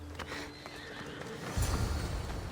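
A horse neighs in the video game Assassin's Creed Odyssey, a whinny over steady game ambience with a louder low rumble of hooves or movement joining partway through; no talk.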